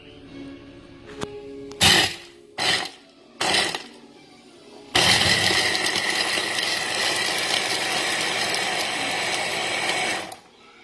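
A MOOKA 1100W immersion hand blender whirs in a few short bursts, then runs steadily on turbo boost for about five seconds, a loud close motor whine that stops abruptly.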